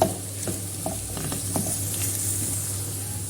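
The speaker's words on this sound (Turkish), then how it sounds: "Onlarla da şöyle bir karıştırıyorum." Potatoes sizzle steadily in a hot pan while a utensil scrapes and stirs through them, with irregular clinks and scrapes close by.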